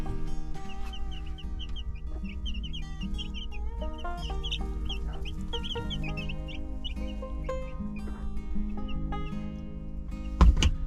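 A hen clucks softly and repeatedly while her chicks peep in high, rapid chirps inside a chicken coop, close and continuous, ending with a brief sharp knock.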